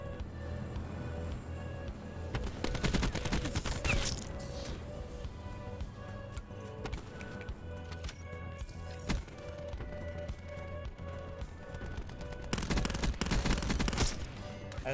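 Rapid bursts of gunfire from the video game Black Ops 4 crackle at moderate to low volume, clustering into dense volleys early and near the end with scattered single shots between.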